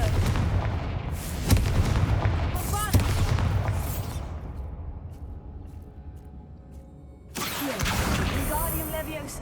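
Confringo spell blasts in the video game Hogwarts Legacy, a series of loud booming bursts with crackling tails, dying off to a quieter stretch before another heavy blast near the end; a voice is heard among them.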